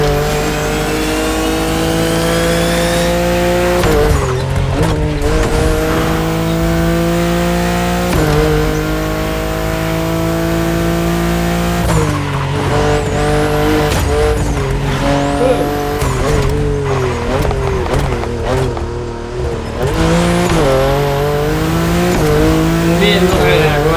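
Video-game car from The Crew Motorfest drifting, with continuous engine revving that rises and falls and sliding tires squealing loudly throughout, close and steady for the whole stretch.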